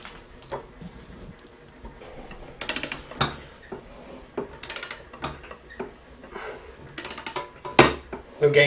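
Breaker bar working on the hardware of a rebuilt solid front axle for a 7.3 OBS truck, giving repeated ratcheting clicks and metallic ticks in short bursts, fairly close, with quiet background noise between them.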